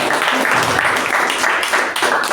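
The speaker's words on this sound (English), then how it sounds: "One more big round of applause for Chetan." An audience at a club meeting gives a big round of applause, dense continuous clapping that stays loud throughout.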